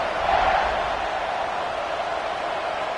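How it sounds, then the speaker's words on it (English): Stadium crowd buzzing in the College Football 25 video game before a kickoff after a score, a steady broadband roar of many voices that holds at an even level throughout, with no single voice standing out. "this crowd is buzzing after that last score"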